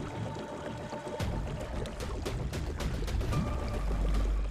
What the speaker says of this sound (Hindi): बहते पानी की यह आवाज कभी भी मौत बनकर बरस सकती थी।